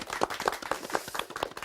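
Short burst of clapping from a studio audience welcoming a guest to a Korean talk show, with quick irregular hand claps, fairly close and moderately loud, lasting under two seconds.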